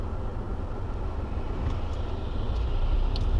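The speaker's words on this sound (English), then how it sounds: "Wait for this traffic to pass." Broad low rumble of road traffic passing near a parked car on a rainy day in a Vancouver Island rainforest, swelling slightly louder toward the end, with steady rain-like hiss underneath and no voices.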